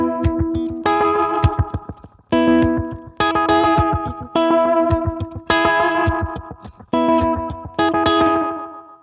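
Electric guitar on a Strat's second pickup position through a modeled preset with delay and effects: clean, bright chord phrases repeated in short bursts, loud and close, with echoing tails between strums and no talking.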